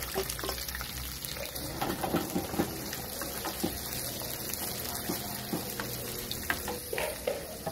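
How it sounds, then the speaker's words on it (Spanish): Onions and peppers sauté in a pan, a steady crackling sizzle with soft stirring scrapes, close and fairly quiet, with no talk. "vamos a comenzar sofriendo las cebollas y los pimientos"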